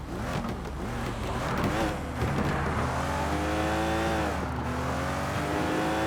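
A race car engine revs loudly and steadily, its pitch rising and falling in long sweeps under continuous roaring, close and dominant with faint voices in the background.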